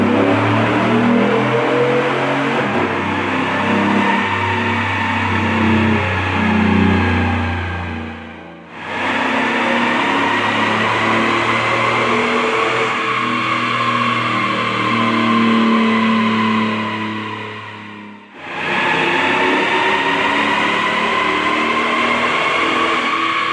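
A car with a Flowmaster exhaust makes three loud pulls on a dyno. Each run builds as a roaring rise in engine pitch and cuts off sharply before the next one starts.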